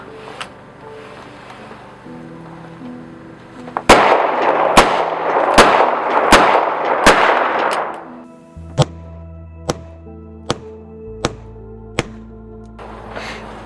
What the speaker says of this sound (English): It's a Taurus Revolver